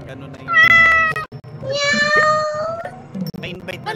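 A person imitates a cat with two drawn-out, loud meows close to the microphone, over a low background hum and light chatter from a gaming session with friends.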